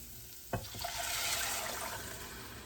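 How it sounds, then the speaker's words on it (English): Water is poured into a hot pan while cooking chicken Florentine, beginning with a sharp splash and settling into a steady, loud rushing sizzle that continues to the end. "Then I'm going to add my 2 cups of water."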